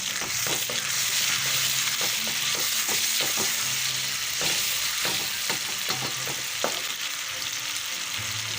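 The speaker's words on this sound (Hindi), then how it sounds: "ये प्याज हमारा फ्राई हो गया, मैं टमाटर डाल रही हूँ।" Chopped tomatoes going into fried onions in a pan for aloo gobi pulao, a steady close sizzle broken by frequent light scraping stirs and taps, no voices.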